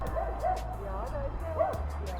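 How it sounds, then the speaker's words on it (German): A dog yips and barks in a few short, fairly faint bursts amid outdoor background rumble in a natural setting, with people talking nearby. "Ja, da ist der Hund."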